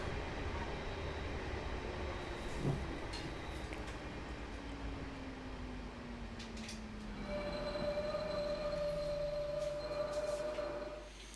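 A Class 444 train on the Portsmouth Direct Line brakes hard coming into a station. A falling whine and a high metallic wheel squeal ring over the rumbling carriage, with a thump partway through.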